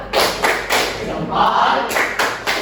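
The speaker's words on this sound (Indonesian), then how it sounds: "Tepuk jempol dulu" A classroom group claps out a patterned thumb clap, a series of dull rhythmic thuds in quick bursts with brief pauses, with voices faintly mixed in.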